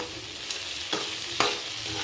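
Potatoes and tomatoes frying in a pan over a low flame, with a steady soft sizzle and three brief scraping stirs spaced about half a second apart, close and fairly quiet.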